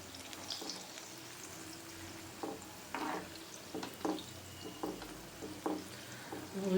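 Gulkand-stuffed jamun balls fry in oil, a faint steady sizzle broken by soft stirring swishes at regular intervals, with no voices.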